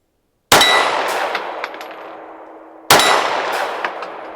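Two loud, close pistol shots from an M&P Shield EZ 9, each followed by a ringing clang as the round strikes a steel target outdoors. The shots are about two and a half seconds apart, and the ring decays slowly between them.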